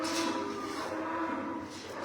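A little heifer calf moos loudly and steadily, a single sustained bovine call close by with no talk over it.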